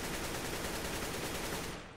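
AK rifle fire in Counter-Strike: Global Offensive, a continuous rapid burst of automatic shots filling the whole stretch, dense and even, stopping near the end.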